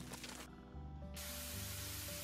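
Spray nozzle hissing in the House Flipper video game, a steady broad rush lasting about two seconds over low background tones, close and fairly loud.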